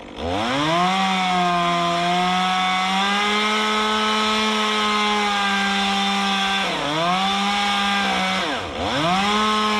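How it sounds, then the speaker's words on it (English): A chainsaw that has caught fire drones steadily at high revs while cutting wood, close and loud, dipping briefly twice as it bogs down in the cut before whining back up. "Man, that chainsaw just caught fire."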